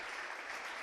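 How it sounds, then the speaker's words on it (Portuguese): Applause from a church congregation, a steady dense wash of clapping filling the short moment with no voices standing out. "Por favor, aplauda ele."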